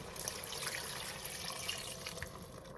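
Water pours steadily into a pot of chili, a soft, continuous splashing trickle heard close up and fairly quiet.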